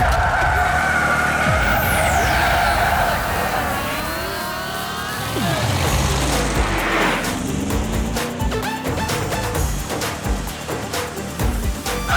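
Motorbike engines rev and tires screech as a bike gang chases a bus in a cartoon, with whooshing pass-bys and skidding, no voices.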